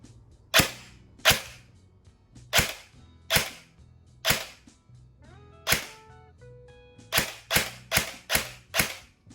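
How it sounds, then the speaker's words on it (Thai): An EMG Salient Arms SAI GRY M4 airsoft electric rifle built by G&P fires single semi-auto shots: about ten sharp, close cracks, evenly spaced at first and then a quicker burst of five, with faint mechanical whirring between shots. "ยิงไปสิบนัดนะ"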